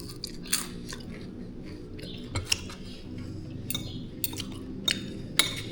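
Crunchy shrimp lumpia is chewed close to the ear with crisp, irregular crackling bites. Soft clinks of cutlery and dishes sound in between, with no talking.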